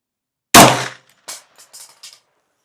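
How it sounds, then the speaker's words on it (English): A Smith & Wesson M&P 15-22 rifle fires one sharp, loud shot at targets. The crack decays quickly and is followed by several lighter, evenly spaced metallic clinks. "I'm going to shoot for that bottom one."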